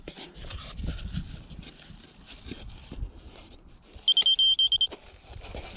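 A quick run of high-pitched electronic beeps from a Mini Drak Kompact model aircraft receiver, about eight short tones in a row, sounds close up amid quiet handling rustle.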